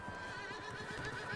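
A horse neighs and whinnies inside a barn in the video game Red Dead Redemption 2, a clear close call with faint hoof clops, heard alone without talk.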